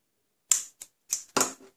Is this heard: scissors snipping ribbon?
yes